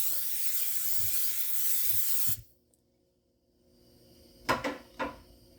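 Cooking spray hisses steadily into a pan preheated to medium-high heat for about two seconds, then stops abruptly, followed by quiet and two short clacks like a lid or cupboard.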